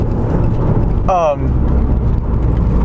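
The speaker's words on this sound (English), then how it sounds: "I'm just gonna throw the car into it" A 2007 Subaru Impreza driven hard into an on-camber corner, its engine and road noise loud and close, with a short sweeping whine cutting through midway and a voice speaking over it.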